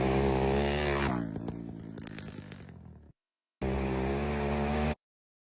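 A motorcycle, a 250 or 350 two-stroke, rips past loudly for about three seconds with a rough buzzing engine tone. After a short silence, another loud burst of steady engine noise follows, then cuts off.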